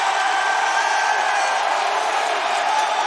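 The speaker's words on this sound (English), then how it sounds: "Wow, listen to the fans." Fans at a live AEW wrestling event roar and cheer in a dense, sustained wash of noise that sounds a little distant, with a faint voice above it.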